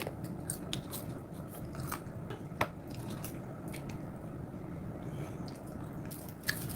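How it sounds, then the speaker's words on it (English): Close, wet chewing and squishy biting of a mouthful of French fries, a continuous mushy mastication texture with a few sharper clicks, no talking. "She then went right in to shoving as many French fries as she could into her mouth"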